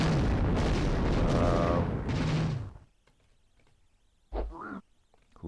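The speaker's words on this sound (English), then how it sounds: "Oh, okay, he blew himself up." A video game character blowing himself up: a loud, rumbling explosion lasting a couple of seconds, then quiet, followed by a few short, quacking game effects.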